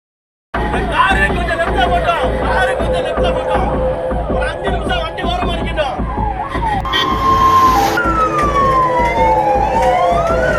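An ambulance siren wails through town traffic as crowds make way, heard under steady crowd chatter and a voice talking, with a rising and falling tone that sweeps near the end.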